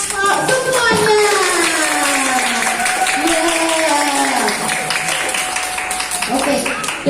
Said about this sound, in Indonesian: ya tepuk tangannya untuk kelompok